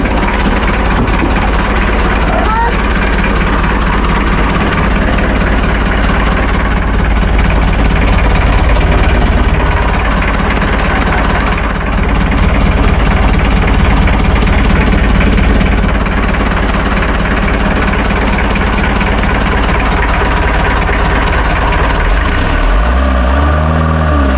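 A freshly cleaned engine runs loud and close at a steady idle, a dense rumbling drone with slight swells in revs and a deeper rolling burst near the end.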